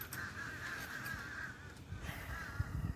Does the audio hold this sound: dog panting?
no